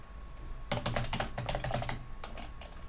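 Quick bursts of keyboard typing, a rapid clatter of keystrokes in short runs with a brief pause, close and fairly quiet.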